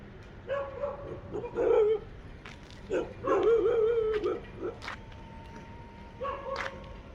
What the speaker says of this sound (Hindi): स्टैंड देख के ही ये भौंकने लगते हैं।